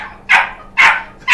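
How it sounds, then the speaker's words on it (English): Puppies bark indoors, three sharp close yaps in quick even succession, loud and alone with a faint hum underneath. "hark, what puppy doth bark yonder?"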